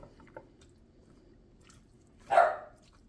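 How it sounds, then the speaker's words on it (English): A single short bark rings out after a quiet stretch, with faint soft noises before it. "I hear my dog"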